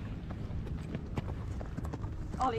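Horse hooves clip-clopping: a steady run of quick, close hoof knocks throughout, with a faint higher squeak near the end.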